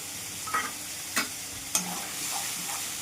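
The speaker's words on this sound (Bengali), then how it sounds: "এবার ভালো করে কষে নেবো মশলাটা" Spice paste with turmeric, salt and cumin being stirred and fried in a pan for a pointed gourd and prawn curry, a soft continuous sizzle broken by a few sharp scraping strokes of the spatula.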